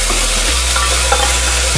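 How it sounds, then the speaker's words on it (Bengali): Onions frying in a pan as the base for a chicken stew, giving a steady, close hiss and sizzle with no talking. "পেঁয়াজ প্রায় আধ ভাজা হয়ে গেছে,"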